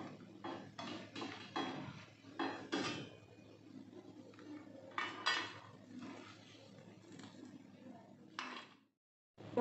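Roasted dry fruits being scraped out of a pan after the gas is turned off, a run of close metallic scrapes and clinks of a spoon against the pan, ending with a brief silence.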